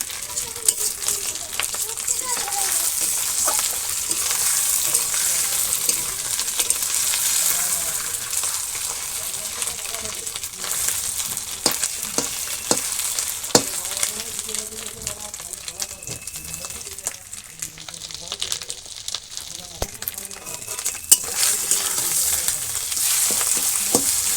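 Fish roe and chicken eggs fry in a village kitchen pan, a steady close sizzle with scattered clinks and scrapes of stirring; a voice may murmur faintly underneath.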